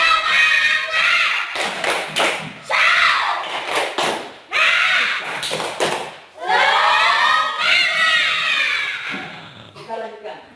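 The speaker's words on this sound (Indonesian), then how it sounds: "Tapi sebelum lanjutkan supaya lebih semangat, tepuk semangat dulu" A classroom in an Indonesian Islamic religious education lesson does the rhythmic 'tepuk semangat' chant, with sharp patterned claps punctuating loud group chanting in bursts.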